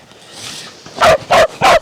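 Three loud, evenly spaced barks from a hunting dog close by on a bow hunt in South Africa, following a faint stretch of background noise.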